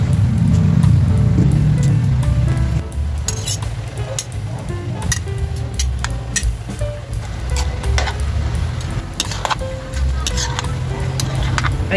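Bihon rice noodles dropped into boiling broth in a pot for pancit bihon guisado, stirred with soft clinks of utensil on metal over a steady bubbling simmer.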